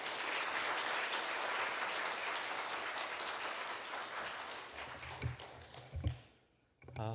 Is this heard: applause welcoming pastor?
yes